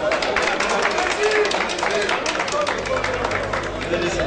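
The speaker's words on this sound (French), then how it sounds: "Monsieur Mandou Marcel, bonne acclamation s'il vous plaît." Crowd at a Cameroonian association gathering cheering and applauding as a vice president arrives, a dense continuous roar of clapping and voices throughout.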